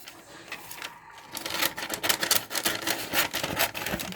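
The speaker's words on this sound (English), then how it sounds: "So I'm just going to get this stencil cut up now." Scissors cutting a client's tattoo stencil paper make a steady run of dry rasping snips and rustles, close up and fairly loud, with no talking.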